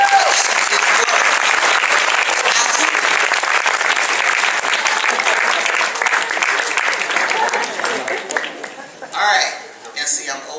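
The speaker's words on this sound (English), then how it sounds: "while you guys applaud her for her boldness and her realizing what she is worth" Audience applause at a keynote address, a dense, sustained wash of clapping from a large crowd for about eight seconds before thinning out and fading, with a voice breaking in near the end.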